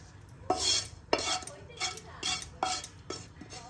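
A spoon scrapes and knocks against a pan while roasted dry fruits are mixed into ragi flour, six or so sharp metallic strokes in an uneven rhythm, close and clear without talk.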